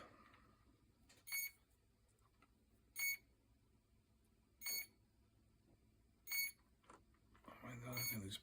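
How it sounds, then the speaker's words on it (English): A drone with no signal gives short bright electronic beeps, about five of them spaced roughly every second and a half, over faint background noise and soft voices. "So it might be beeping because it's got no signal"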